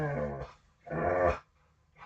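A little dog growls and whimpers in two short, close bursts separated by a brief pause, with another faint sound starting at the end.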